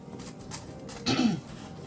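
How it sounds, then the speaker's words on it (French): A single short, rough throat clearing close to the microphone, rising briefly above a quiet background. "je suis un petit peu malade, je me racle la gorge"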